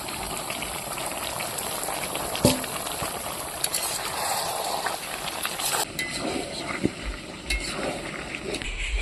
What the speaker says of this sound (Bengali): ঢেকে ঢেকে রান্না করলে মাংসটা ভালো সিদ্ধ হয়ে যাবে